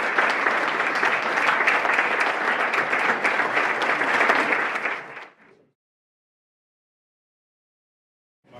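A hall full of people applauds steadily and warmly as Ray and Molly are welcomed to the stage at a National Band Association Hall of Fame induction, the clapping fading out abruptly into silence.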